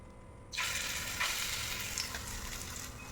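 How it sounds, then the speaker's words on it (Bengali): Masoor dal fritters drop into hot oil in a pan and sizzle loudly and continuously at close range, with a burst of frying that starts abruptly and then holds steady. "ডিম ভাজা আমার হয়ে গেছে, এখন ভাজবো আমি বড়া। চলো বড়া ভাজি।"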